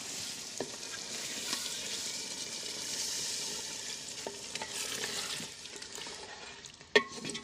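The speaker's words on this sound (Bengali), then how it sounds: "এখন আমি মাংসে পানি দিয়ে দিব।" Beef that has been fried down in a pan gets water poured in, giving a continuous loud hiss and sizzle with occasional clinks from stirring and a sharp knock near the end.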